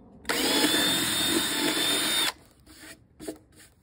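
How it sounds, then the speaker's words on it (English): A power drill whines loudly at steady speed for about two seconds, drilling holes in wood for a travel guitar build, then stops, followed by faint handling noises and brief clatter. "So now I'll drill these."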